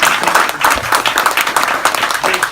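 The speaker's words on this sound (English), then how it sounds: "I think that Bo and Linda Jimenez deserve a round of applause for hosting this" Audience applause for the hosts at a neighborhood residents' meeting: steady, dense clapping from a modest crowd, fairly close and moderately loud, holding through the whole stretch with a few voices mixed in.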